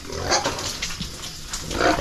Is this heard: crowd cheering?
no